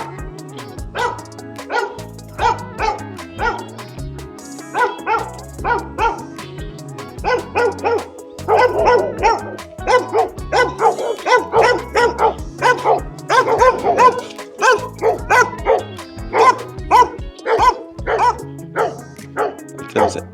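A dog near mansions in Hellshire, Jamaica, barks repeatedly in quick, loud bursts, with some yips mixed in. The barking gets busier and denser in the second half, and people are also talking.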